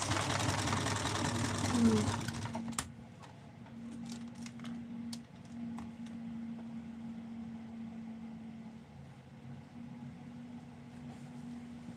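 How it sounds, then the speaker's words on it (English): A machine embroidery unit stitches Christmas gifts in a steady, even mechanical whir that runs without pause after a brief loud stretch at the start. "I'm doing machine embroidery for Christmas gifts today"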